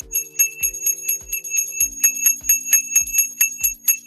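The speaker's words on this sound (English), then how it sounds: "Of course, I give it an extra long ring-a-ding today." A small hand bell rings repeatedly, struck about every half second in a steady series of bright, close metallic dings with shimmering high overtones and no talking.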